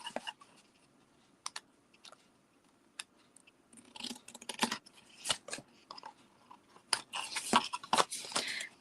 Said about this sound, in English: I'm going to go up the side of the score line and then just trim that little bit off there